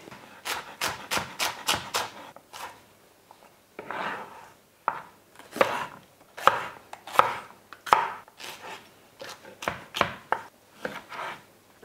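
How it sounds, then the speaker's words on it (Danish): Quick, rhythmic knife chops slice through vegetables on a cutting board, sharp close taps in fast bursts separated by short pauses, with a dish cooking at full heat in a kitchen. "så snitter jeg lige mine grøntsager."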